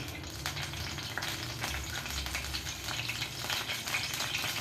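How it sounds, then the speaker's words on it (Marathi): Cumin and mustard seeds sizzle and crackle in hot oil in a pan while a spiced brinjal dish is prepared. The frying is close, continuous and even, with light popping and no talking. "तेल तापलेलं आहे त्यामध्ये जिरं मोहरी घातली"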